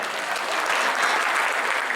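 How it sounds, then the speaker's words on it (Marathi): Audience applause at a felicitation ceremony, a dense, even wash of many hands clapping at once, sustained and fairly loud throughout. "त्या सगळ्यांकरता जोरदार काही टाळ्या झाल्या पाहिजे"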